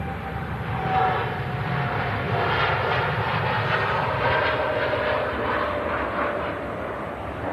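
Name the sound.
TUI Boeing Dreamliner jet airliner on takeoff roll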